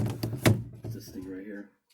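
The balky van door of a 1965 Clark Cortez gives a few close, hollow clunks and thuds, followed by someone speaking nearby.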